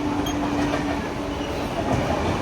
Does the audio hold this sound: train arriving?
yes